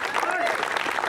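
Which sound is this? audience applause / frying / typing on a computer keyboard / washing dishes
audience applause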